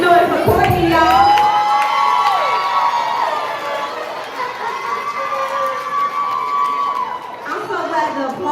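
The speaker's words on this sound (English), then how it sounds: "Make some noise for Courtney, y'all." A live poetry-event audience erupts in loud cheering, with high whoops and shrieks layered over a roaring crowd that stays strong for several seconds.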